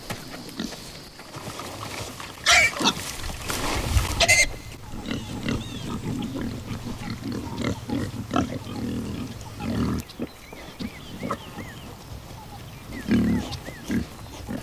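Pigs on a farm grunt and snort repeatedly at close range, with irregular, overlapping grunts and some louder squeals over about fifteen seconds.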